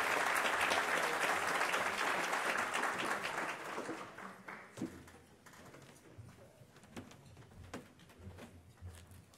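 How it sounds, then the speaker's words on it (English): Audience applause at a business luncheon: dense clapping loud for the first four seconds, then thinning to scattered claps and fading over the rest of the stretch. "Let's give them a clap."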